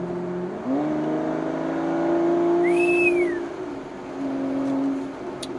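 A sports car engine revs up, its pitch climbing and holding in a smooth rising note, then dipping and rising again; loud and close, no voices.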